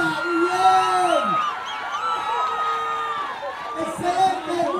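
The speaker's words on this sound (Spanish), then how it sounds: "¡Aplausos fuertes, aunque sea la envidia!" A crowd at a dance competition awards ceremony cheers, whoops and shouts loudly, with high excited voices and screams rising and falling over several seconds.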